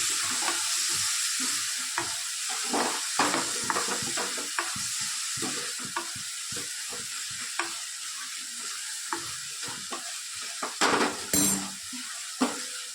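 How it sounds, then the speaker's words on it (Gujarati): Onions roasting in a pan give a steady, close sizzle, with frequent scrapes and stirring strokes of a utensil and an occasional clink against the metal, and no voices. "ડુંગળી તેને પણ સરસ શેકી લઈએ."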